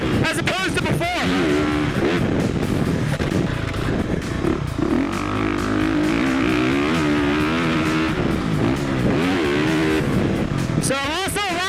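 A 2018 Honda CRF 450R dirt bike ridden on a motocross track, its engine loud and close as it revs up and down through corners and jumps, with a rider's voice over the noise.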